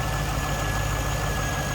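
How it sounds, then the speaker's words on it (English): A 2000 Chevrolet Corvette convertible's engine idles steadily, a continuous low rumble with a faint high whine over it, no talking. "Smooth running engine."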